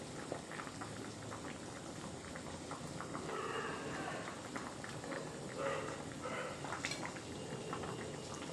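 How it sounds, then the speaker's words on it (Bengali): Pot of ghugni, a dried pea curry, bubbling steadily on the stove, a dense continuous simmering hiss with soft popping throughout. "ঘুগনি ফুটে উঠেছে, ঘুগনি কমপ্লিট হয়ে গিয়েছে"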